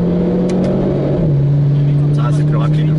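A Renault Clio 4 RS engine drones steadily from inside the cabin, its tone dropping slightly partway through as it shifts gear, loud and constant while people talk over it.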